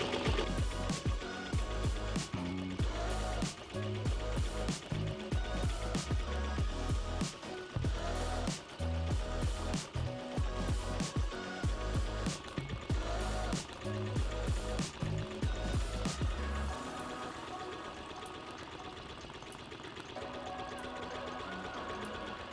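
An embroidery machine stitches at a slow speed of 480, a steady fast mechanical clatter that runs loud and close for most of the stretch, then drops to a quieter hum near the end.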